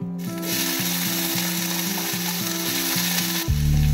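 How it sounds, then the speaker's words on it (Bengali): Eggs frying in hot oil in a kadai (wok), a steady loud sizzle with a rhythmic mechanical ticking underneath, then a sudden louder burst of sizzling near the end. "ভেজে নিই।"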